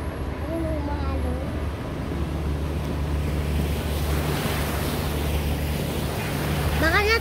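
River waves wash and lap on a morning tilapia-fishing outing, a continuous broadband rush mixed with wind buffeting the microphone, with brief faint voices near the start and end.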